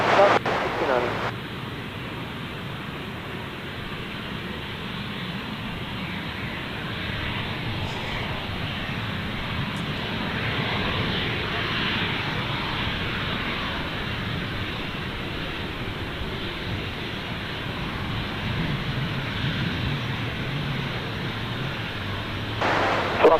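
An airliner rolls for takeoff at Gold Coast Airport, a steady broad engine roar and rumble holding at moderate distance for over twenty seconds, with faint voices at the start and end.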